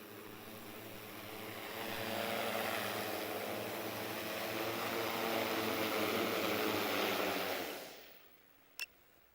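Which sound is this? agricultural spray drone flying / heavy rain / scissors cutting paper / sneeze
agricultural spray drone flying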